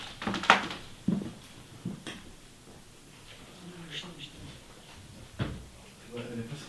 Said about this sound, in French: Donc ça c'est la porte qui s'est refermée sur eux.